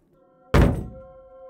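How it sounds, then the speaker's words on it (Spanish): A single loud, heavy thud hits a door as a sound effect, with a low booming body that decays over about a second while a steady tone sits underneath. "hubo un golpe en la puerta"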